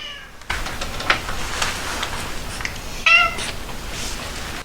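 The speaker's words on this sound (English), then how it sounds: "There's a cat at the door meowing." A cat meows at a door a few times, one clear drawn-out cry standing out, a little muffled as if from nearby, over a steady background hiss.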